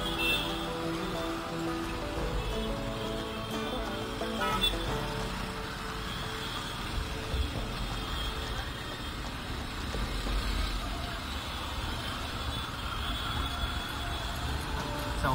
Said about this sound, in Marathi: आज ट्रॅफिक आहे